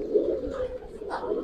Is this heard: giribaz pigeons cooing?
yes